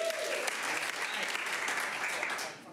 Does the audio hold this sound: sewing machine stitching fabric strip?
no